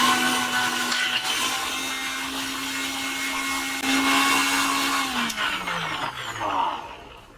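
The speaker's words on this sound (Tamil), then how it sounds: "ஓகே, இப்போ நொச்சி இலையை அரைச்சிடலாம்." A mixer grinder whirs loudly, grinding chopped nochi leaves, its steady motor hum holding, then winding down in pitch as it slows toward the end.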